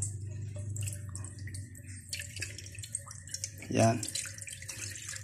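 Water is poured into a frying pan to fry an egg in place of cooking oil, a soft trickle and splash under a person's talk, with one brief louder splash near the end.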